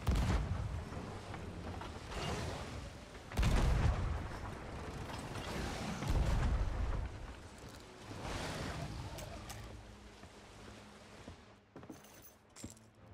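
Heavy booming cannon blasts from Sea of Thieves ship combat, several loud thumps spaced a few seconds apart over sloshing ocean and creaking ship ambience, with a few small metallic clinks near the end.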